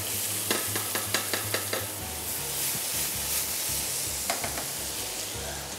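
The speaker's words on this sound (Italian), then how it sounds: "Ecco che nell'olio bollente sono finiti i peperoni e la cipolla" Peppers and onion sizzle steadily in hot oil while a utensil clacks against the pan in quick repeated taps, then stirs again.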